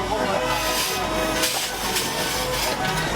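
Steady hiss from a 1923 Tasker Little Giant BE2 steam tractor at an outdoor steam fair, continuous and fairly close for a few seconds, with a low mechanical hum beneath.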